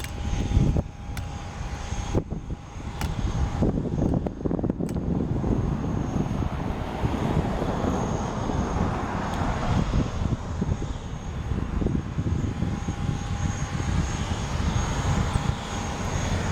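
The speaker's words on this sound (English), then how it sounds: "Looks like this engine startup is coming from the 737-800" A Boeing 737-800 jet engine spools up at an airport in Portland, a continuous broadband roar with a steady whine, loud and constant throughout with a few sharp clicks early on.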